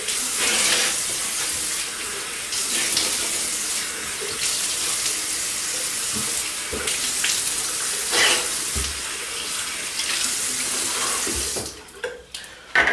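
Cold tap water runs steadily into a sink while a face is rinsed after a shave, a continuous close splashing hiss with small shifts as hands dip in, cutting off near the end with a few drips.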